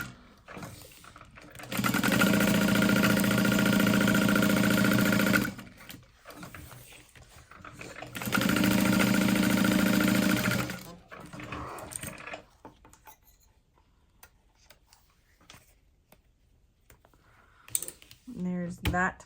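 A sewing machine basting vinyl onto fabric runs in two steady, loud whirring bursts of a few seconds each, separated by a short pause, followed by quieter handling noises.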